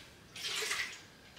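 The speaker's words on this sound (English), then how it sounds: "Go ahead and add my vinegar." Vinegar pours into a canning pot holding jars in water, a short burst of bright splashing and gurgling that starts abruptly, peaks for about half a second, then trails off.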